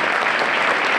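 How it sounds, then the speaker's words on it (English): More than 300 attendees at a school district breakfast event break into loud, continuous applause, a thick, steady roar of clapping hands. "Give yourself a round of applause"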